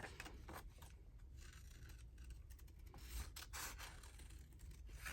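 Scissors snip through paper while crafting a journal, making a series of close, crisp cutting and rustling sounds in an irregular rhythm.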